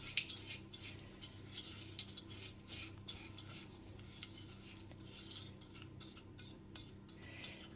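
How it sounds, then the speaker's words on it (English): Seeds being stirred in a bowl with soy sauce, spices and coconut oil, giving close, irregular scraping and light clinks of a utensil against the dish over a low steady hum. "mix that all together, just making sure that all the seeds are well coated in the soy sauce and the spices and the coconut oil"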